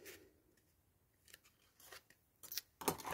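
Scissors snip paper into small pieces for pockets in an autumn craft journal. The cuts come as several quiet, close, crisp clips in an uneven rhythm in an otherwise quiet room.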